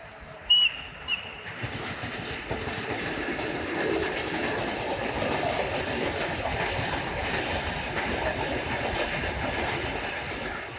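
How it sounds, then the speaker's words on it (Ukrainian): Train rolling past a railway station, a long steady rumble with clickety-clack of wheels on rails, loud and continuous, with a brief whistle-like squeal at the start and birds faintly behind. "Мабуть, ще один поїзд буде."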